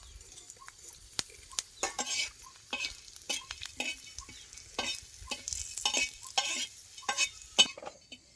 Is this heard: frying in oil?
yes